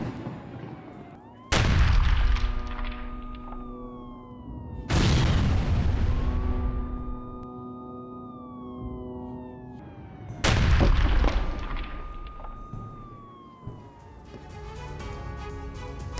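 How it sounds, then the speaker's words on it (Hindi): Heavy bombing explosions in Gaza, three loud booming blasts spaced several seconds apart, each with a long rumbling decay, while a wailing siren-like tone rises and falls between them. "गाजा में गूंज रही है धमाकों की आवाजें।"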